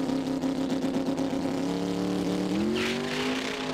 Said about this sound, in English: So, building up the revs one more time.